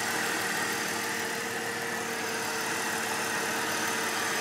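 A BMW M5 with a 2.3 litre petrol engine idles at a used car market, a steady continuous hum with a faint knocking vibration and no talk.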